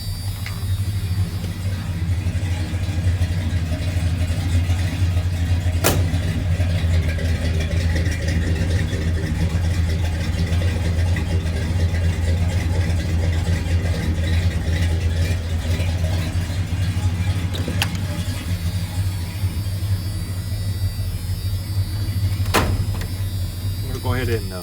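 A 1986 Ford F250 pickup truck's 460 V8 engine idles steadily with a low, even rumble, broken by a couple of brief clicks, with no one speaking.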